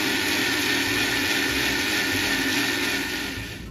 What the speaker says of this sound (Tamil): ஸோ இதை நான் இப்போ நல்லா ஒரு க்ரீமி டெக்ஸ்சரில் அரைச்சி எடுத்துக்க போகிறேன்.